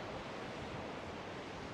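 Ocean waves wash onto Folly Beach near Charleston, South Carolina, a steady, soft rushing of surf mixed with light wind noise, continuous and fairly quiet, with nobody speaking.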